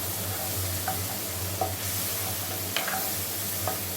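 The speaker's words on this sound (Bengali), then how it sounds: "মশলাটা ভাজা ভাজা হয়ে গেছে।" Spice paste with chili powder and cumin powder fries in a pan for a fish curry, a steady sizzle with occasional stirring scrapes close up.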